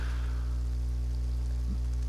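Rain falls in the DayZ survival video game as a steady, even hiss of moderate loudness, with a low hum beneath it and no voices.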